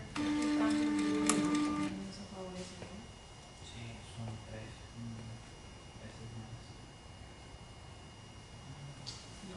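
A Ricoh Ri1000 printer running after an ink sump cleaning gives a loud mechanical whirr with tonal motor whine for the first two seconds, then falls to a quieter steady hum with faint intermittent tones.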